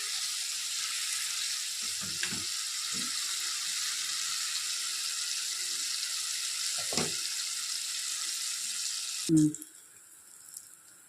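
Jackfruit slices for chips fry in hot oil with a steady bright sizzle that runs the whole time. A few soft scraping stirs and one louder clank near the end rise above it.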